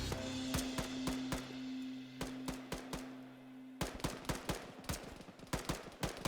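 Infantry gunfire in a military video game battle: rapid bursts of sharp shots in quick succession over a low steady hum, growing denser and more clustered toward the end.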